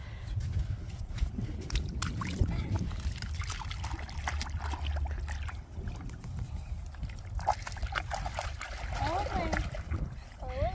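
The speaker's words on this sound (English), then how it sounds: "give him a wash in the river" A toy monster truck is washed in river water, with splashes and trickling over a constant flowing stream, while voices talk through most of the stretch.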